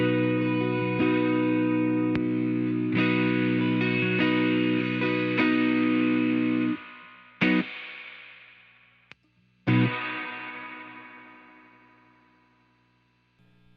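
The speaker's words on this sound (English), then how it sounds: "when you max out the reverb, you get that more pronounced, watery effect" Electric guitar chords ring out through a Fender reverb unit with the reverb turned all the way up, giving a long, watery wash, then a few strums cut off and leave tails that fade slowly into silence.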